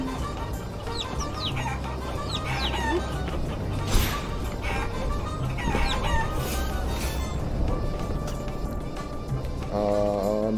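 Chickens in the Guacamelee video game, with repeated clucking and squawks over busy game music and effects, plus a brief mid-level burst of noise.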